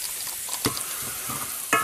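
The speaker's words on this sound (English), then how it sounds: "Stir it nicely." Potato dish being stirred in a pan, with a few scraping clicks of the spoon over a soft background sizzle, close and fairly quiet.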